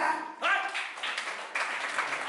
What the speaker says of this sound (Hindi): बॉब के लिए अरे ताली बजा